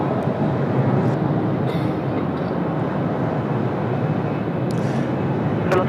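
A Vietnam Airlines airliner takes off from runway 34 left at Sydney Airport, giving a loud, continuous jet roar that holds steady throughout with no voices.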